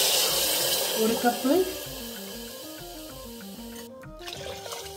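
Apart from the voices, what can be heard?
water poured from a cup for rice upma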